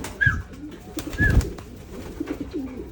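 Pigeons in free-flight training coo softly while wingbeats flap in two brief bursts, near and moderately loud, with a few faint higher chirps and no talking.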